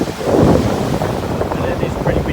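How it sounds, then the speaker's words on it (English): Strong wind gusting at Port Lonsdale beach, buffeting the microphone with loud low rumbling and steady broadband roar throughout. "But it is pretty windy."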